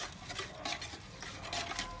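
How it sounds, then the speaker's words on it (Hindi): Dishes, cutlery and utensils being scrubbed and washed at home, with repeated clinks, scrapes and clatters at an uneven rhythm, close by and fairly loud, with no voices. "सही से मांजो बर्तन"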